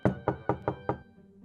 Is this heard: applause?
no